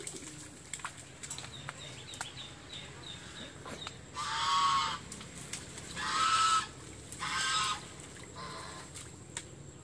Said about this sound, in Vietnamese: Con ngỗng kêu to ghê chưa?